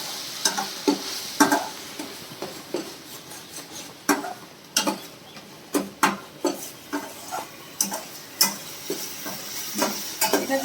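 Cashew and poppy seed paste frying in a wok for a yogurt katla fish curry, stirred continuously with a utensil: repeated scraping clicks and taps over a steady oily sizzle, close and unhurried.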